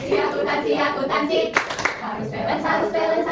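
A class of students claps out a rhythmic accounting clap chant, close and lively, with sharp clustered claps in the middle under chanting voices.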